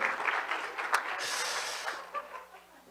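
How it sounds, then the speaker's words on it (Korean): A church audience gives a brief round of applause, soft and somewhat distant, fading within a few seconds. "우리 박수 한번 주시죠"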